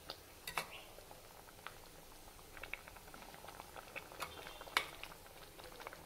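Soft bubbling and popping from garlic vathal kuzhambu simmering in a pot, quiet and uneven, with occasional small ticks and clinks.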